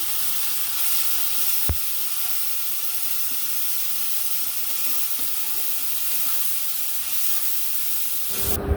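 Spiced water poured into a hot pan of fried onions and fish, a loud dense hiss and bubbling that holds steady, with one sharp knock early on and a clatter at the end.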